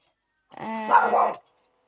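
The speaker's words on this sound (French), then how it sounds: "pardon pour le chien" A single drawn-out dog bark, almost a yelp or howl, about a second long, close and fairly loud, with no other sound around it.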